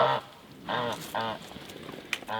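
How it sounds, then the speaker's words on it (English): Homestead geese let out of their pen honk in loud, nasal calls, several close together, followed by quieter rustling and a short chirp. "Don't fight with my geese."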